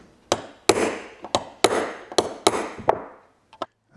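Sharp hammer blows strike metal on a Harley-Davidson speedometer about six times in a loose rhythm, each ringing briefly, followed by a couple of lighter taps.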